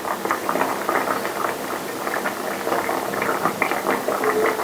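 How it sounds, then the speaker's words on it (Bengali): Katla fish sour curry bubbles steadily in a pan, a continuous close simmering patter with small pops and no talking. "মাছটা দিয়ে দেওয়ার পর 10 মিনিট একে আমি ফুটিয়ে নেবো"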